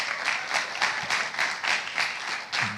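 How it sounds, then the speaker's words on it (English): Steady applause from a business conference audience, a dense, even wash of clapping that stays moderately loud for a few seconds with no talk over it. "please, a round of applause for the beautiful Bolanle, Austen-Peters"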